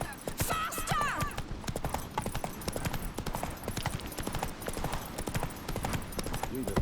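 A horse gallops at speed in The Witcher 3 video game, its steady rapid hoofbeats clip-clopping close by, with occasional whinnies and shouted voices over game music and ambience.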